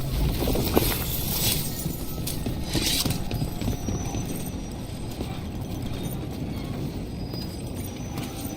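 Horse hooves clip-clop steadily while riding in Dragon Age: The Veilguard, a quick even rhythm of hoofbeats over a constant background bed, close and clear with no talk.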